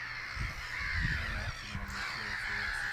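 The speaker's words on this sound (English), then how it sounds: "The noise the birds make is amazing" Many birds call at once in a dense, continuous chorus of harsh cries, a busy flock at an estuary in North Norfolk heard fairly close with no pauses.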